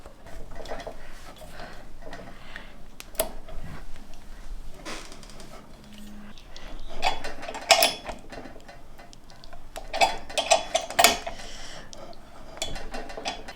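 Metal handle being threaded into the power bar of a Country Living grain mill, giving scattered clinks, light ticks and ratcheting mechanical clicks in uneven bursts, close and fairly quiet, with no talking.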